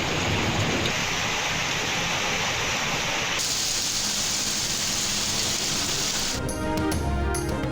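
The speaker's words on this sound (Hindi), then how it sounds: "इस्लामाबाद और पंजाब के मुख्तलिफ शहरों में मूसलाधार बारिश।" Torrential rain pours down in Islamabad and Punjab cities, a dense steady hiss of heavy rainfall with a shift in texture partway through, continuous and loud without speech.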